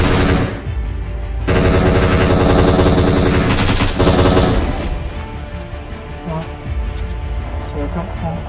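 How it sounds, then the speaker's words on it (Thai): Rapid bursts of automatic gunfire in PUBG Mobile, loud and sustained, with sharp repeated shots that thin out into scattered firing and game noise. "ได้ยินเสียงปืนอยากจะวิ่งเข้าหา"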